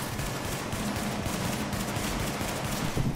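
Dense, continuous gunfire rattles through a shootout in the video game The Division, a loud, unbroken wash of rapid shots that fills the whole stretch without any voices.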